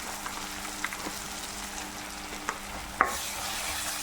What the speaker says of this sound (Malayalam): ഇതിലേക്ക് സാമ്പാർ പൊടിയാണ് ഇടുന്നത് ഒന്നര ടേബിൾ സ്പൂൺ സാമ്പാർ പൊടി ഇടും